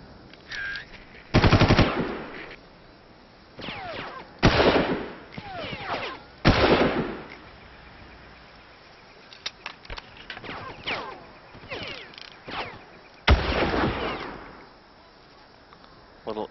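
Gunfire in the first-person shooter Far Cry, repeated loud bursts of shots spaced apart over about sixteen seconds with quieter stretches of ambience between them.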